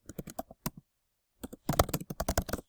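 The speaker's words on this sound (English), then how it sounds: "So I'm just going to type that in here." Quick clattering keystrokes on a computer keyboard come in two close bursts of typing, separated by a brief silent pause, with no voices.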